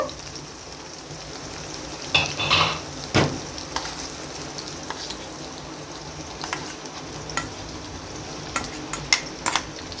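Green chili paste frying with brinjal pieces in oil sizzles steadily, close and fairly soft, with intermittent scraping clinks from stirring in the pan.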